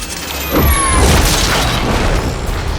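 An explosion in the video game Batman: Arkham Origins, a single deep, loud boom followed by rolling rumble and falling whistling tones that fade away.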